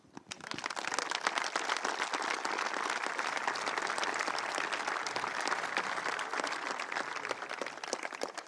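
Sustained audience applause at a ceremony, dense and steady throughout, rising quickly at the start and holding at full strength without talk.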